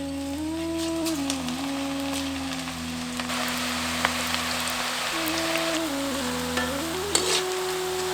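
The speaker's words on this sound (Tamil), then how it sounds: "மிதமான சூடு இருக்கிற எண்ணெயில பக்கோடாவை இப்ப பொரிக்க ஆரம்பிச்சிருவோம்." Onion pakoda batter sizzles and crackles steadily in medium-hot oil, with a low hum underneath and occasional sharper pops.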